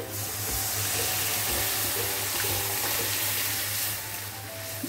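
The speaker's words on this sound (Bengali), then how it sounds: "এখন অ্যাড করে দেবো ডাল সেদ্ধ করা" Boiled masoor lentils are poured into a pan of fried spices, giving a loud, continuous hiss and bubbling sizzle that fills the whole stretch with little change, with no talking.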